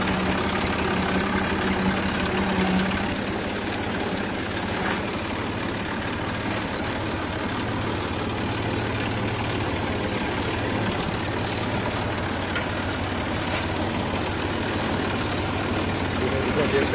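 A tractor engine runs steadily at a cowshed while green maize and fodder are unloaded, a loud, constant low rumble that never lets up, with people talking over it.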